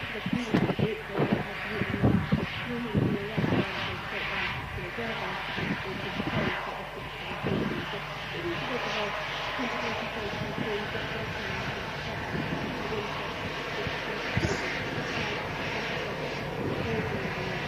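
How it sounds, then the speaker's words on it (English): Jet airliner engines roar at an airport, a Ryanair flight touching down on the runway from Prague while other aircraft taxi; a steady broad rumble fills the whole stretch with low thumps early on, and a voice talks over it. "There's a couple of aircraft shifting around on the runway as well, with a Ryanair just touching in from Prague"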